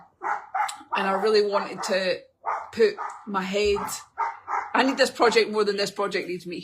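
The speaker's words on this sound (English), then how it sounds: "That's my neighbour's dog." A neighbour's dog barks and yips in the background, partly buried under a person talking steadily throughout.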